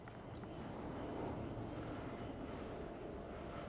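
A DJI Avata FPV drone fitted with Masterairscrew 3-blade propellers flies outdoors, giving a steady, distant-sounding airy buzz mixed with wind rush, faint and continuous.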